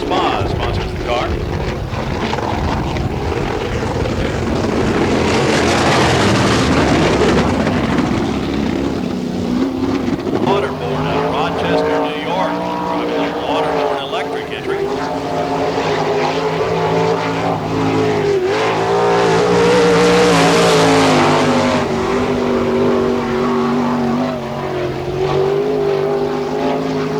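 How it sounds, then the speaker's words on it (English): Sprint car number 29 runs on a dirt speedway with its engine cutting up badly. The loud engine roar rises and falls in stuttering surges while an announcer talks over it. "On the Speedway, the sprint car number 29, the engine cutting up pretty badly for Terry Clutch."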